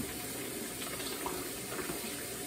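Water runs from a kitchen tap in a steady, faint, continuous stream that splashes softly in a sink, with no talking over it.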